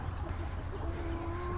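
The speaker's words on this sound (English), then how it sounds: "I can hear my little chickens in there going, "Open the door!"" Chickens clucking inside a closed coop, soft scattered clucks and a faint sustained note within a steady background hum, muffled and moderately distant.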